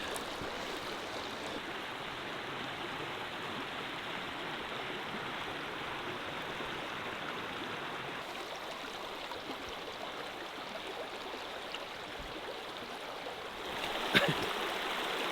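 Creek water in the Australian bush rushes steadily over rocks in a valley, a broad continuous wash that stays even throughout, with a brief louder splash near the end.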